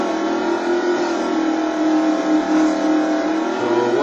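Motocross vehicle engine racing in the video game MX vs ATV Untamed, a loud continuous high-pitched engine drone held at steady revs with slight rises, no talk over it.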